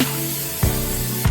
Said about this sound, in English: what we're going to do with this pan is spray 8 of these with cooking spray.